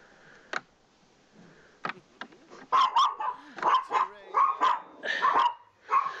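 Dogs bark close by in a rapid run of sharp, repeated barks after a few scattered sounds, growing denser and louder toward the end.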